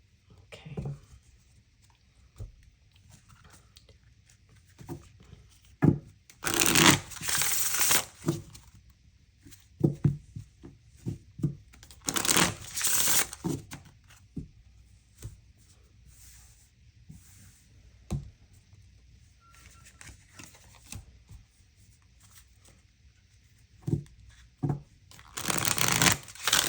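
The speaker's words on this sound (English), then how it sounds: "Shuffled those, but I didn't put the cards back in." Tarot cards are shuffled in several short, crisp riffling bursts scattered among quiet stretches and light handling clicks, close up.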